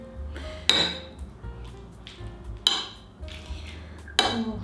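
Korean bibimbap being mixed in a bowl, with three sharp metal-on-bowl clinks spaced a couple of seconds apart over low scraping and stirring, close and fairly quiet.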